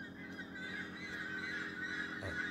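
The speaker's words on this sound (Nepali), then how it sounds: "चराहरू कराउन थालेको आवाज म सुन्दैछु" At dawn in Sauraha, Chitwan, in thick cold fog, birds call steadily at a distance, a layered chorus of honking and cawing notes over a soft constant hiss.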